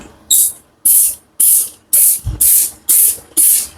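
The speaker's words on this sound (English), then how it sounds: "Actually, just need to spray the thingy." A trigger spray bottle squirts cleaner in a bathroom: seven sharp, evenly spaced hissing bursts, close and loud, with a faint thud between two of them.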